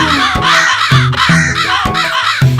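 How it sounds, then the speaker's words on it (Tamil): A crow caws repeatedly in a children's rhyme, loud and clear, with several harsh calls in a regular rhythm, each one breaking off sharply. "காக்கா காக்கா கண்ணுக்கு மை கொண்டு வா,"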